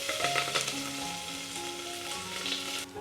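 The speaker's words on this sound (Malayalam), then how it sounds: "നമ്മൾ ചതച്ച് വെച്ചിരിക്കുന്ന ഇഞ്ചിയും വെളുത്തുള്ളിയും പച്ചമുളകും ചേർത്ത് കൊടുക്കാം." Crushed ginger, garlic and green chili frying with spices in hot oil for kappa biriyani, a steady close sizzle with faint stirring and a soft background tone, no talk.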